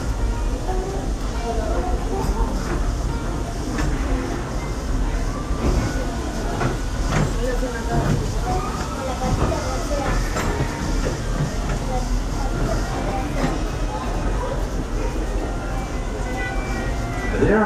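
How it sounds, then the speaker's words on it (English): Steady rumble and clatter of the Walt Disney World Railroad steam train rolling along, continuous and close from inside the cars, with voices heard faintly over the running noise. "this steam train is a little old-fashioned"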